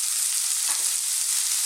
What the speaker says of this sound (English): let's just throw this around in the pan for like a minute, 2 minutes max